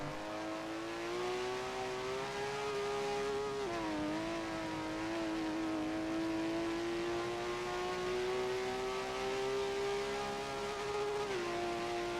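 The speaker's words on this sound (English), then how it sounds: "Showing off his moves with a little bit of drifting action." Video game car in Forza Motorsport 7 drifting around a turn on a race circuit, a steady droning engine note that dips and swells as the car slides, loud and continuous with no talk.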